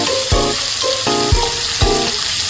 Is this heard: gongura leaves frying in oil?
yes